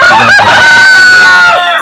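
Goliath chicken crowing loudly right at the microphone, one long strained call held for nearly two seconds, with no talk.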